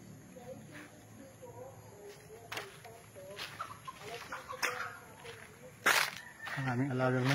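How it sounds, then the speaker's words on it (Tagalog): Chickens cluck intermittently nearby on a farm in Cavinti, Laguna, with scattered footsteps and rustling, and faint voices in the background. "Ang aming alagang manok."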